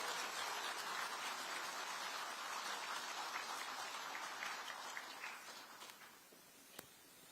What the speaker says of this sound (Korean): 앞으로 큰 박수로 한번 모셔보도록 하겠습니다